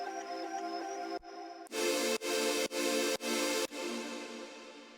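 A big, bright synth chord in electronic dance style laid over a sample, played under a sustained tone, then pulsing in five rhythmic, evenly spaced stabs.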